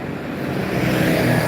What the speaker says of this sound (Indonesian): Ini yang melintas truk-truk kecil ya.